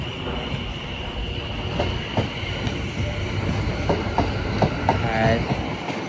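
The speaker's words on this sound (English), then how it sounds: "701-057 departs as well for London Waterloo" A Class 701 electric train pulls out of Clapham Junction toward London Waterloo with a steady rolling rumble, rhythmic wheel clicks over rail joints and a brief wheel squeal near the end.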